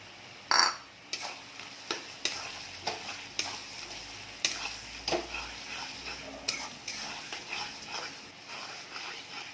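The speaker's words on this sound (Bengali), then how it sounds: "টমেটো কুচানোটা আমি এতে দিয়ে দিলাম।" Chopped tomato sizzles and fries in a pan for Bengali mutton kosha, with steady crackle and repeated scraping stirs of a spoon at a regular rhythm, close and moderately loud.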